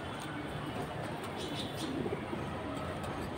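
High-flying pigeons softly cooing in a loft, faint and intermittent over a steady background hiss.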